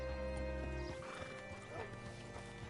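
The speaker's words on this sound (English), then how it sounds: "Hitch your horse up here." A horse whinnies briefly in the video game Red Dead Redemption over a steady synthetic hum, followed by a few soft hoof clops, with faint talk underneath.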